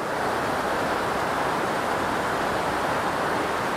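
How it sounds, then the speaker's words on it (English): Ithaca Falls in Ithaca, New York pours in a constant, dense rushing roar, loud and unbroken throughout, with no voices. "Just to give you an idea of how much water is flowing"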